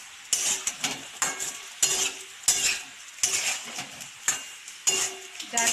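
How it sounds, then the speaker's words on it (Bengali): Potatoes coated with chili powder and Kashmiri chili powder are stirred in a frying pan, giving rhythmic scraping strokes of a utensil against the pan, about a dozen, over light sizzling. "এবার আলুগুলোকে একটু নেড়ে চেড়ে নিতে হবে।"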